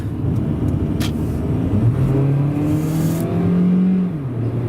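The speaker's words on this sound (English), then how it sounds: "you can really hear that VVTi kick in" A Toyota Corolla engine revs up close by at night on a freeway, its pitch rising steadily as it accelerates and the VVT-i engages, then dropping slightly as the gear changes.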